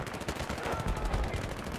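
Rapid gunfire from the Battlefield 3 video game rattles in a dense burst of repeated shots, moderately loud and continuous for about two seconds.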